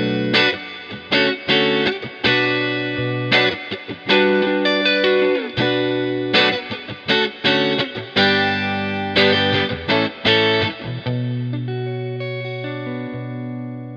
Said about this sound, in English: let's hear the difference there with the reverb